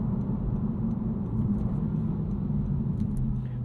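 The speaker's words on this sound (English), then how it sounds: "You always get a little over rev between changes" A 2022 Honda Civic Si engine drones low and steady from inside the cabin during a test drive, a continuous rumble with slight shifts in pitch between gear changes.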